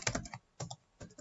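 Several quick bursts of password typing on a computer keyboard during an eBay seller account sign-in, clustered keystrokes in three short groups with pauses between, close and fairly quiet, no talking.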